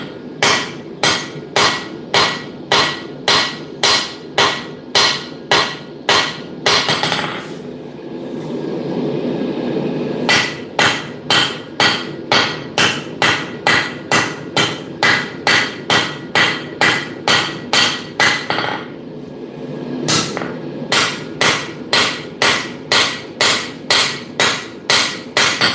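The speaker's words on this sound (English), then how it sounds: "All right, bevel forging time." Hammer blows forge the bevels of a blade, landing in fast regular runs of sharp metallic strikes, loud and close, with two short pauses filled by a duller rushing noise before the hammering resumes.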